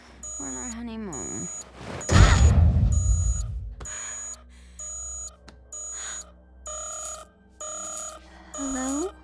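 An electronic alarm beeps in repeated regular bursts, with a loud rustling thump and a voice cutting in between the beeps.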